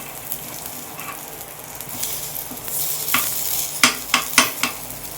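Paddu fry in a pan with a steady, close sizzle, and a run of sharp metallic clicks and scrapes near the end as they are turned.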